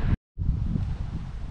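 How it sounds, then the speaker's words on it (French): Wind blowing at the coast, a steady, full-bodied rush buffeting the microphone, briefly cut to silence near the start before resuming its constant roar. "Il y a un petit peu de vent, il fait un peu frais"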